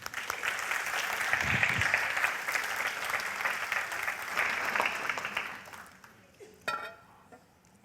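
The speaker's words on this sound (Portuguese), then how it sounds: "agora podemos aplaudir" A church congregation breaks into sustained, dense applause that fills the space for several seconds, then fades out, followed by a brief final burst of claps.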